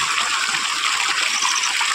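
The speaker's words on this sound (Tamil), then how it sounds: "நமது முல்லைப்பூ தோட்டத்தில் தற்போது அந்த தண்ணீர் இறைக்கும் காட்சியை தற்போது காணலாம்" Steady water gushing as it is pumped out in a jasmine flower garden, a continuous broadband rush that holds even throughout with no voices.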